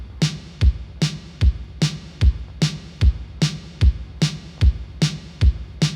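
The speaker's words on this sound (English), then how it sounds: "we are going to go ahead and add a kick that's going to sound like this" Programmed kick drum sample for a post-punk beat in FL Studio, a steady run of punchy low thumps paired with lighter snappy hits in a driving, even rhythm, played alone.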